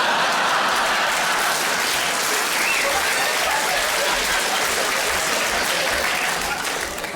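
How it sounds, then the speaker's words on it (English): Comedy club audience applauding a stand-up comedian, a loud, sustained burst of clapping from a large crowd lasting several seconds without voices. "I don't quite know what that round of applause was for"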